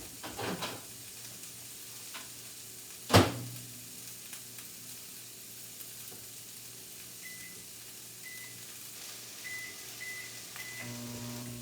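Defrosted sausage in a frying pan, a faint steady sizzle in a home kitchen, with a sharp clatter early on, a few soft beeps later and no voices.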